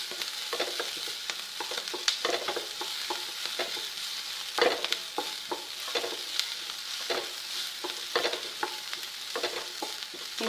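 Eggplant masala for kathirikai kulambu fries in a pan and is stirred, giving a soft continuous sizzle broken by frequent sharp scraping clicks of the spoon, close and with no voices.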